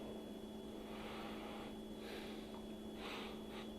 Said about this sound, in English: That's why I keep sniffing it